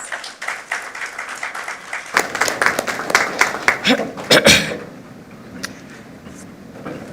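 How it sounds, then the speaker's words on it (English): An audience at a conference claps to welcome a keynote speaker. Scattered claps build into moderately loud applause lasting a few seconds, with light chuckles and voices around it, then fade to quiet room tone. "Round of applause, please."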